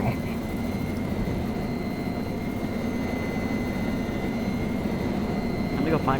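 A helicopter in a PC video game drones with a steady, loud engine roar and whine for several seconds, while players talk over it.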